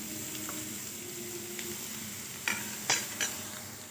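Onions frying with mustard seeds, urad dal and fennel sizzle steadily in a pan, a close, even crackle with a few sharper spoon scrapes and knocks near the end.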